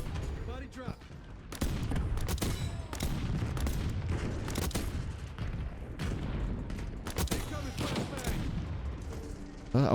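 Dense, continuous automatic gunfire in Black Ops 6 from an AK74 class setup, loud rapid bursts layered with other shots, with a player talking over it.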